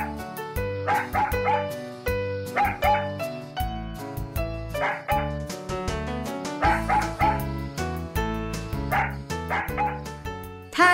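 Bouncy music with dog barks and yips recurring in short bursts about every couple of seconds, fairly loud and close.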